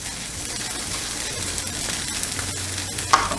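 Hash browns fry in a pan with a steady, close sizzle and light crackle throughout, plus a brief clink near the end; no one speaks.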